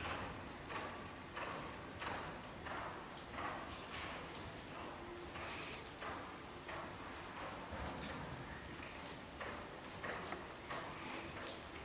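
A horse canters, its hooves thudding in a steady three-beat rhythm on an arena surface, moderately close against a constant background wash.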